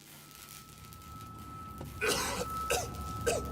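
A character in the video game Hamnesia gives three short coughs in quick succession over a faint steady hum, the bursts rough and close.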